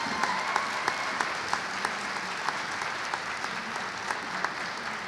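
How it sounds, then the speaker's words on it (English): An audience at a rural achiever debate gives sustained applause, a soft, even patter of many hands with a few louder claps popping through at a steady pace, somewhat distant. "thank you for the warm applause for the affirmative team"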